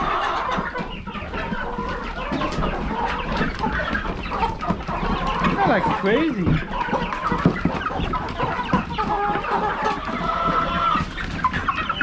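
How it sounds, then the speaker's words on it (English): Farm chickens clucking and squawking at feeding time, a busy near chorus of overlapping clucks with occasional louder calls, and someone briefly speaks over them. "So I'm feeding the chickens twice a day."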